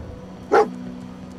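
Single short dog bark from the companion dog in the Fallout video game, one sharp burst over a steady low game hum with no talk.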